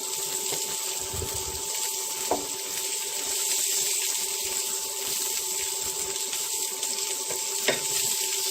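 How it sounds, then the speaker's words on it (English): Chopped onion sizzles steadily in a pan on an induction cooker while being tossed, with a constant frying hiss, a faint electronic hum and occasional soft scrapes. "Now we add the onion. And I'll just toss it around a little bit."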